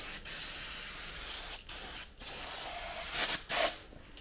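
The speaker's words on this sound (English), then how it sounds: "we're going to give the disc a good clean with our favourite flavour of brake cleaner" Brake cleaner hisses from an aerosol can onto the rear brake disc of a 2015 Toyota Corolla in several close, loud sprays separated by short pauses, with no talk.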